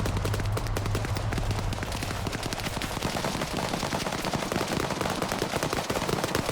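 Rapid gunfire rattles through a military multiplayer game's embassy rescue battle, dense bursts of shots fired in quick succession at moderate distance, steady and unbroken for several seconds.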